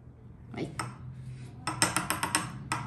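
Ingredients being stirred into batter in a bowl, with a series of clinks and scrapes from a utensil against the bowl, louder and more rhythmic toward the end, over a low hum.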